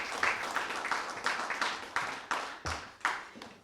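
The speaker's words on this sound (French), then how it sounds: "C'est sous les applaudissements que Serge Allard a été élu 16e maire de l'histoire de Val-d'Or." Election-night crowd applauding as a new mayor is elected in Val-d'Or: faint, distant clapping in rhythmic bursts of several claps, with a little background chatter.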